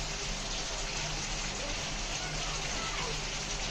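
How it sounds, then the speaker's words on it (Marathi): Onion and coconut roasting in a pan for a crab curry, a steady soft sizzle and crackle running continuously at low level. "आता हे खोबरं पहिलं भाजून घ्यायचं"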